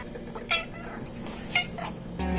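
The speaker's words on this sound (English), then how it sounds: "The meowing of Felis catus," A domestic cat meows several times, short rising calls spaced across the moment, fairly close, with a voice briefly starting at the end.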